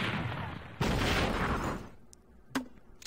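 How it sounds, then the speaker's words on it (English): A cannon shell attack fired by a mini tank in the strategy game Battle Nations: a dense gunfire burst with spread damage, roaring loud for about a second before fading, then a sharp lone crack near the end. "this unit has two attacks, a cannon shell with spread damage"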